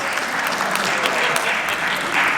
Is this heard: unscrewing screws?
no